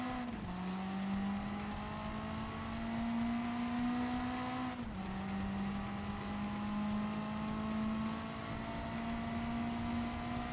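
A car engine revs hard on a race track and climbs in pitch, drops briefly at a gear change, then pulls steadily upward again, loud and close.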